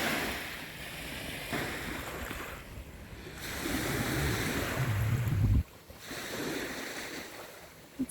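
Waves washing onto a Great Lakes shore, a steady surf wash with repeated swells and some wind buffeting the microphone, fairly close and alone.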